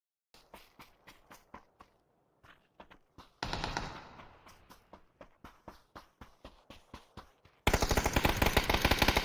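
Repeated gunfire in a video game battle as players shoot at an enemy by a crate in the smoke: rapid bursts of sharp shots, then a louder sustained blast of fire near the end, with no talk.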